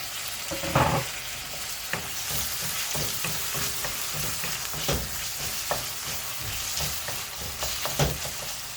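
Tomatoes sautéing in a pan for a tangy okra gravy, a dense steady sizzle close by with repeated spatula scrapes and taps.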